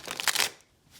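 Tarot cards riffle and slide together in a quick shuffle close up, a soft papery rustle that fades after half a second.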